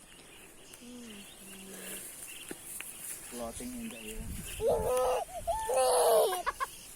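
Birds call at a beach resort on Tablas, Romblon, with clucking, fowl-like calls rising to a louder burst near the end, while people talk nearby.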